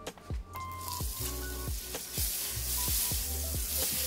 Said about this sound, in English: I am now going to add about a tablespoon of butter to my skillet